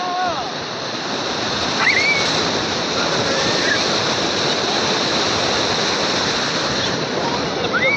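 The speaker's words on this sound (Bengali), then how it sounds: "কি বিশাল ঢেউ।" Big sea waves crash at Puri beach in a constant loud roar of surf and wash, with faint high whistles over it.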